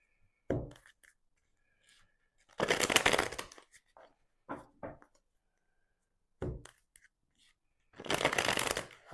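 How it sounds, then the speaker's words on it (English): Tarot cards shuffled close up in several separate bursts, short riffles alternating with longer dense shuffles and quiet gaps between. "Just gonna shuffle a bit."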